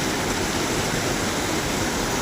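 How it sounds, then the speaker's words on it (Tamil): Jogini waterfall near Manali, water pouring down in a steady, loud, broadband roar with no breaks and no voices. "அவ்வளோ சூப்பராக தண்ணி வந்து சவுண்டு பாருங்கள்."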